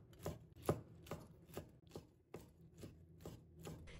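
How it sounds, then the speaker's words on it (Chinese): A knife chops pre-soaked wood ear mushroom into thin strips on a cutting board, giving about ten sharp, evenly spaced knocks close by with no talk. "再准备点提前泡发好的木耳，也给它切成细丝。"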